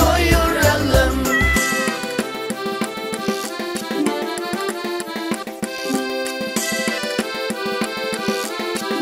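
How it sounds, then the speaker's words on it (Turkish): A small cat meows over a busy music backing, the meows blending into the dense tonal bed for about nine seconds. "Güzel tatlı minik kedi miyav miyav miyav dedi"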